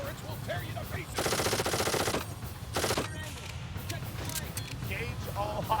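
Auto turret machine guns in Darkest of Days rattle out two loud, close bursts of rapid fire, a long one followed by a shorter one, over a steady din of battle with voices in the background.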